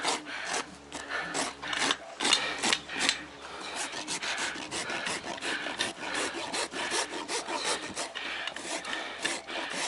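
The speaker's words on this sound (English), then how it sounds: "that's the way the rasp works. Is straight down like this" A farrier's rasp files down a horse's hoof in steady, rough strokes, a close, repeated scraping rhythm running through the whole stretch with no talk.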